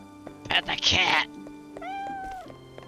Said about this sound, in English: This is a cat in the background,